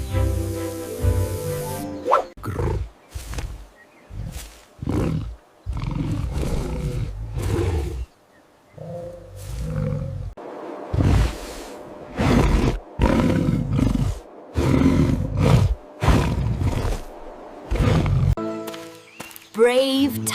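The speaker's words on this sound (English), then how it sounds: "Brave tiger." A tiger roars repeatedly in a series of loud, close, rumbling bursts separated by short pauses, with a brief snippet of music at the start and end.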